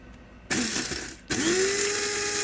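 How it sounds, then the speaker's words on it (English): A coffee grinder whirs as it pulverizes dried onion into powder, two close, loud bursts of motor noise with a brief pause between them, the second rising into a steady high whine. "Into the coffee grinder."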